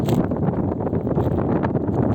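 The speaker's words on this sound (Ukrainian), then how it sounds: "Вітер, звісно, дме." Gusty spring wind on a frosty day buffets the microphone with a steady low rumble and rustling, close and fairly loud, with no voices.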